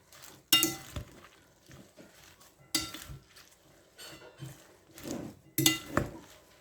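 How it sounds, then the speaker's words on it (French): Utensils stir a fresh salad in a bowl, giving three or four brief clinking, scraping bursts of metal against the dish with quiet pauses between, close and moderately loud. "Je vais juste mélanger."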